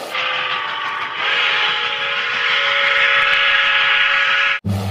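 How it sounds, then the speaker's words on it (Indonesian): A toy express train rushes past with a loud, sustained whistle-like tone over rumbling rail noise, ending abruptly. "dan juga kereta api ekspres."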